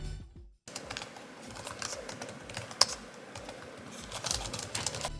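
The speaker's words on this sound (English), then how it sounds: "The scissor key switches are quiet keys which reduces noise when you type" Typing on a ProtoArc XK01 folding keyboard with quiet scissor switches, a soft, rapid, irregular patter of key presses heard up close in a quiet room, with one sharper click partway through.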